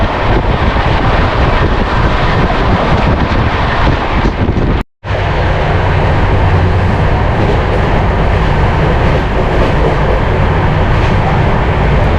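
Saraighat Express train departing a station, a loud, continuous rumble and wind-buffeted roar of rolling stock, broken by a brief dropout before the heavy noise resumes.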